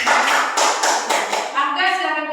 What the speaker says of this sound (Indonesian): Jadi tepuk tangan dulu untuk Afgan